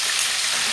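Shrimp seasoned with garlic and salt frying in oil with a tablespoon of margarine, giving a steady, close, continuous sizzle with no talk over it.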